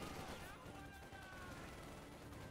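MG34 machine gun firing in a strategy video game, a rapid burst of gunfire that rolls on for a couple of seconds, quiet and under a commentator's talk.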